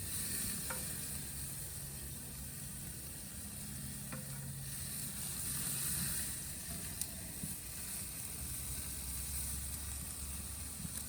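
Flank steak sizzles steadily on a Big Green Egg grill, a continuous close hiss with faint scrapes and light clicks now and then, and no talking.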